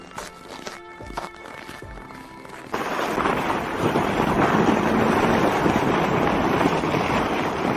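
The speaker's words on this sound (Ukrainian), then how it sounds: "Катання на санчатах." A broad rush of sliding noise, steady and close, as a sled runs over snow after a few crunchy, scraping moments at the start.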